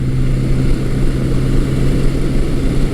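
Classic Yamaha XS1100 musclebike engine cruising at 60 mph around 4,200 RPM, a loud, steady low droning hum with no talk.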